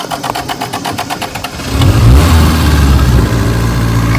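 A Toyota AE82 Corolla FX hatchback, long abandoned, cranks with a rapid rhythmic starter whir for over a second, then catches and settles into a loud, steady close-up idle.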